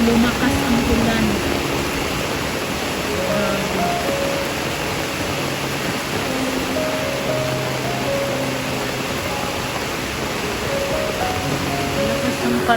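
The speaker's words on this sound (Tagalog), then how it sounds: "Lalong lumakas ang ulan." Heavy rain pours down during a flood, a loud, dense, unbroken hiss of rain and rushing water that holds steady throughout.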